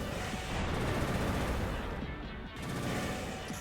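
Continuous rapid machine gun fire from a mech in the PS2 game Armored Core: Nexus forms a dense, steady rattle, joined by quieter in-game clatter and effects, with no clear talk over it.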